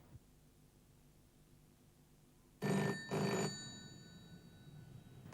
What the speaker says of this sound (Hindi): ओह, फिर वही ब्लैंक कॉल।